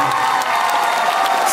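A live audience at the Night of Harmony event in Houston applauding and cheering, a steady loud wash of clapping and whoops.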